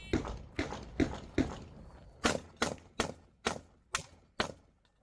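Shotgun and rifle shots ring out at a practical three-gun shooting match: four sharp reports, then six more in a quicker, even rhythm, each dying away in a short echo.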